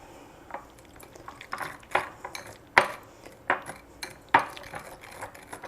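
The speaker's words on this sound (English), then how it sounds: "And we just want to whisk it." A guacamole dressing with oregano is whisked in a bowl, with quick scraping, tapping strokes of metal against the dish that rise in irregular bursts, several sharp clinks standing out, close and fairly quiet, no voices.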